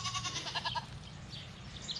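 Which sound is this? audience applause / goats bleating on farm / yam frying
goats bleating on farm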